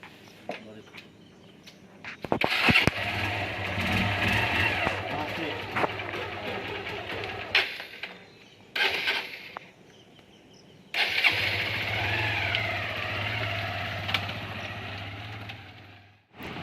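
A motorcycle engine is started and runs at idle, cutting out and restarting a couple of times, loud and close, with people talking nearby in between.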